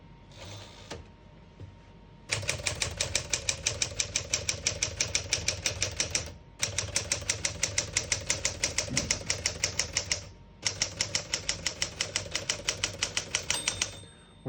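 Keys clack rapidly on a 1964 Smith-Corona Sterling portable typewriter, close and crisp, in three long bursts of steady strikes separated by brief pauses, with no talking.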